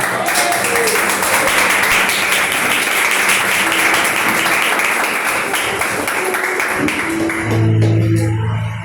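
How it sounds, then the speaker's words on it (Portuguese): A church congregation applauds together in a dense, even wash of clapping that holds steady for several seconds before tapering off near the end. "Senta aplaudindo o nome de Jesus."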